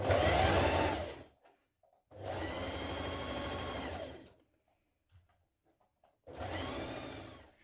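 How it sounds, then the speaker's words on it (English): Sewing machine topstitching a trouser pocket seam, three close, loud runs of rapid motor whir broken by short silent pauses while the fabric is repositioned. "I'm going to stitch a couple of millimetres just inside that seam onto the pocket part, all the way down"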